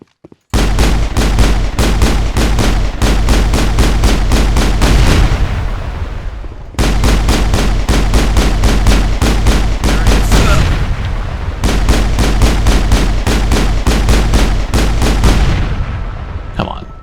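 Rapid automatic gunfire in the video game Mass Effect, loud dense bursts of shots in three long volleys separated by short pauses, each trailing off slightly at the end.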